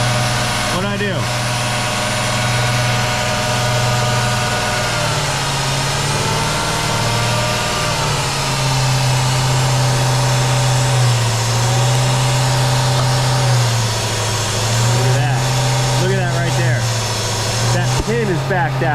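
A Jeep Cherokee 4.7 engine running away out of control, a loud steady drone whose pitch rises and falls in surges, with a person speaking over it.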